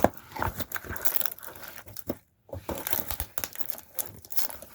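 Old tape crinkles and tears as it is stripped off a Radio Shack Rockin Santa toy, a close, continuous crackling with a brief pause midway.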